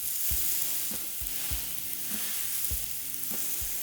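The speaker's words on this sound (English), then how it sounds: "now we're gonna put the steak on the grill" A porterhouse calf steak sizzling on a grill makes a soft, steady hiss with faint spattering, close by and fairly quiet, and no one speaks.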